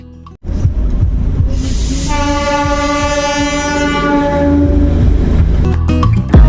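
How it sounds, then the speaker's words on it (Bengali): Darjeeling toy train passing Ghum station, India's highest railway station at about 7,500 feet: a loud, sustained multi-tone horn blares over the heavy rumble and clatter of the passing train, close by. "চলে গেল টয় ট্রেন।"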